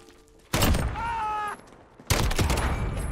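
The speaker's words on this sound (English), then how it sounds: "Oh, I did not mean to shoot twice." Two loud, sharp sniper rifle shots ring out in a video game match with glitched ironsight sniper rifles, the first blast ringing with a whining tone before the second cracks about a second and a half later.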